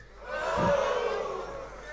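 Audience at a French rap battle cheering and applauding in a short, full burst of crowd noise, with raised voices mixed into the noise.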